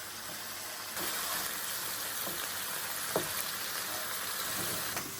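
Food frying in a pan and being stirred until golden brown, for saltfish and ackee: a constant soft sizzle and crackle with occasional faint scrapes and taps of the spoon, quiet and close, with no voices.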